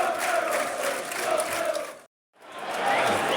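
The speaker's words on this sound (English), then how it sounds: "This is the minutes of applause." A Millwall football crowd at a home match against Oxford United holds a minute of applause for a late fan, a dense, sustained wash of stadium clapping and crowd noise that briefly cuts out before resuming.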